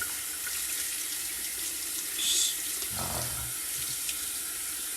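A tap runs steadily into a sink while a shaving brush is rinsed, a constant close hiss of water with small splashes partway through.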